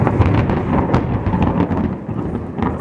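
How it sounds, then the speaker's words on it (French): Thunder during a summer storm with strong wind: a loud, continuous deep rumble fills the whole stretch, rolling and crackling with no pause, with no voices heard. "L'éclair, ça tonne depuis tout à l'heure."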